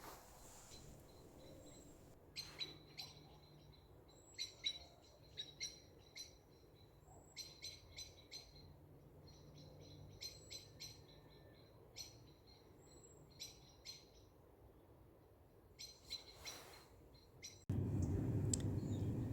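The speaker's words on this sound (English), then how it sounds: "listen to the birds" Faint, repeated bird calls in short clustered phrases across a quiet outdoor setting, followed near the end by a sudden louder low hum.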